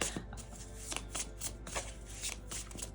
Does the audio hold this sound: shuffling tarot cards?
yes